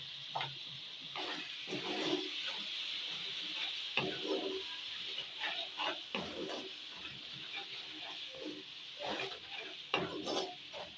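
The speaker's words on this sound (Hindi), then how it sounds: "तो हम ये चिकन डालते हैं ठीक है डालें ये भी साथ अच्छे से ना इसको भून के" Chicken frying in a pan, a quiet continuous sizzle with repeated scraping and stirring knocks of a utensil against the pan.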